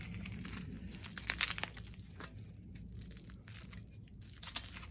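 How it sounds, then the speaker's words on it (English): Tough plastic packaging around light bar brackets is torn and crinkled open, a faint, close run of irregular rips and crackles with no voices. "This plastic is really tough."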